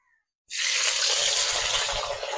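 Prawns hit hot oil in a pan, bursting into a sudden loud, close sizzle after a moment of quiet, then holding a dense, steady frying hiss.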